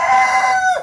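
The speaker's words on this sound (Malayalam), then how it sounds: "കോഴിയാണ് ഒച്ച" A single loud, close chicken call at a pigeon loft, a short crowing fragment heard clearly on its own.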